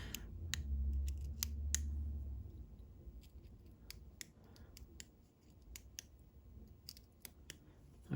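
Small sharp metallic clicks and ticks from picking a Marks CX5 Scorpion high-security lock with milled plug, irregular and close, scattered over a quiet background with a low hum early on.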